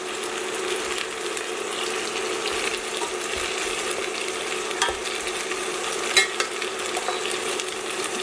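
Red onion sautés with beef in a pan for Filipino-style beef stroganoff, a steady close sizzle with spatula scrapes and stirring clatter throughout, no speech.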